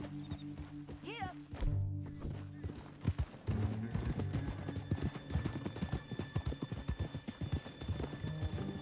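Hoofbeats of a horse clip-clopping in the video game Red Dead Redemption 2, a steady rhythmic stream of clops over the game's ambient sound, with a brief rising whinny early on and a voice speaking around them.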